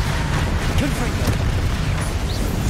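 Confringo fire spell blasting in the video game Hogwarts Legacy: a dense, roaring burst of explosive rumble that fills the whole moment, with game noise churning steadily underneath.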